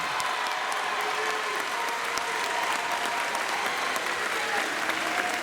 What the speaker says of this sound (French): j'aimerais qu'on les applaudisse bien fort pour ce très très beau début de spectacle